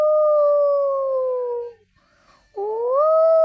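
A human voice imitates a jackal's howl, one long sustained wavering tone that fades out, then a second rising howl after a short pause, loud and close with no other sound.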